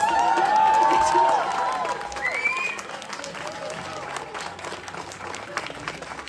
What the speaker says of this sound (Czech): čekala jsem jako velký potlesk